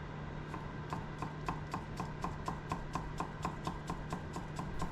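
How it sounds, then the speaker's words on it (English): Knife cutting a cored white onion and garlic into thin slices on a board, producing a steady, even run of close crisp taps about four or five per second. "I take the core out of a white onion and I cut it into thin slices. And I also do the same for the garlic."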